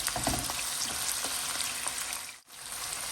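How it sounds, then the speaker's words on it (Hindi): Chopped onions fry in a pan while being mixed in, a dense continuous sizzle with scattered scraping stir sounds that briefly drops out near the end, with no speech. "इसको डालने के बाद आप इसको अच्छी तरह से जो है वो मिक्स कर लें"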